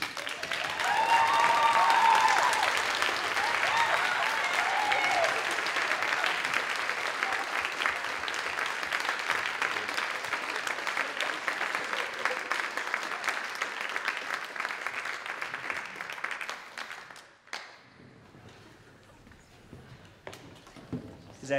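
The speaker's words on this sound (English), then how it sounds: "So everybody give a round of applause for Maddie Congdon." Audience at a high school orchestra end-of-year celebration breaks into loud, sustained applause that holds steady for about seventeen seconds before dropping off abruptly, with a few scattered claps trailing afterward.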